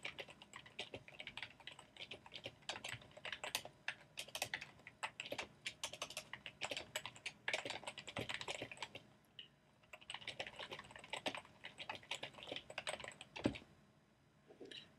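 Steady typing on a computer keyboard while a message is entered, rapid close clicking keystrokes in quick bursts with brief pauses, alone and without talk.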